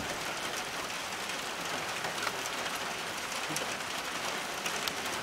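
Steady rain falls on a rural hillside farm where azaleas are in bloom, a dense, even hiss that never lets up for the whole stretch, with no one talking.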